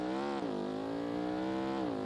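Car in the BeamNG.drive driving game pulling away, a loud sustained engine tone rising and falling in pitch as it accelerates, close and continuous with no talk.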